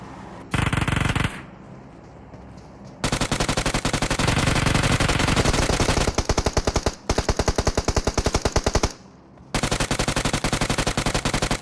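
Automatic rifle fire in the mobile battle royale PUBG Mobile during a squad rush, long rapid bursts and sustained sprays with brief pauses between them, loud and close, no voices over the shooting.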